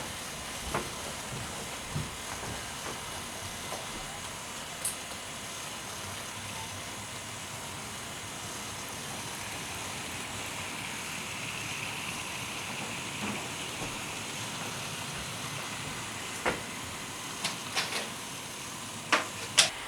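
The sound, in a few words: model train Robinson 04 freight locomotive running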